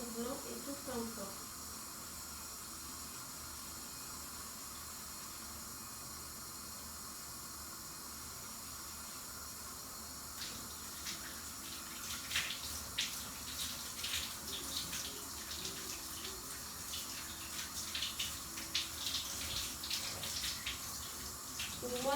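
Laundry being washed under a running tap, a steady broadband rush of water with splashing and handling noises growing busier in the second half.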